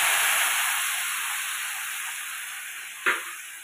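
Onion paste sizzles steadily in hot oil for a Bengali coconut prawn curry, a dense even hiss that slowly fades, broken near the end by a short sharp crackle.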